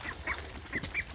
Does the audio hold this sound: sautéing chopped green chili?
no